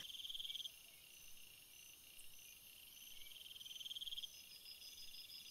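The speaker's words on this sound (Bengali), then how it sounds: "পাখির ডাক আর ঝিঝি পোকার ডাক শোনা যাচ্ছে" Crickets chirp at night in a dark, quiet forest at Jhandi: a faint, steady high trill that swells into rhythmic pulsing bursts, with no voices.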